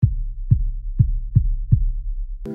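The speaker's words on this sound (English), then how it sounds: "There are these kicks." Deep, booming kick drums from a remix beat hit five times in a steady rhythm, each with a short punchy attack and low sustain, followed by a brief tonal note at the end.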